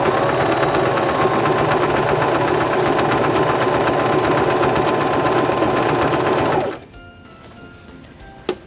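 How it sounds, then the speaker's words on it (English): A Singer sewing machine stitches one side of a buttonhole, running in a fast, steady mechanical chatter for nearly seven seconds before stopping abruptly, followed by quiet room tone and a single small click. "So now we can press on our foot control and sew the left side of our buttonhole"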